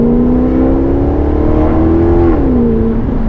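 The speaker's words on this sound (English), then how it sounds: "exhaust note sounds phenomenal" A Maserati GranTurismo exhaust revs loudly up close, the pitch climbing slowly and then dropping back as the throttle eases.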